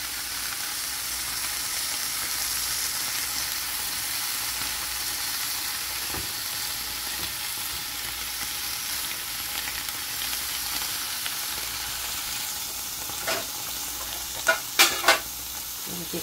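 Cheese pieces fry in a pan with a steady, moderately loud sizzle and hiss, joined near the end by a few sharp spatters or utensil taps, with no voices.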